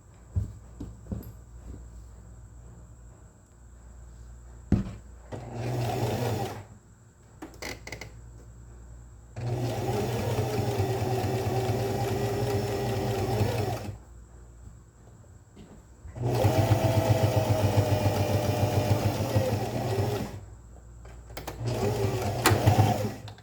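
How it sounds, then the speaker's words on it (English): A sewing machine edge stitches fabric for a scrap fabric accessory, running in two long steady bursts and several short ones separated by pauses. The whirring is close and fairly loud, with no talk. "We're going to give it a nice edge stitch to finish."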